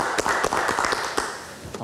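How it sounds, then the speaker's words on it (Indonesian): Studio audience applauding a guest on a live Indonesian evening talk show, a burst of scattered claps and taps lasting under two seconds at steady moderate loudness with no talk over it. "Kita berikan tepuk tangan untuk Trio."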